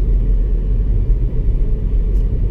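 A car rolls through the streets of Malaga, a steady low rumble of engine and road noise heard from inside, with no talk.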